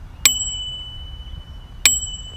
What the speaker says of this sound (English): there is also a little thumb activated bell right here on the front. This is what it sounds like.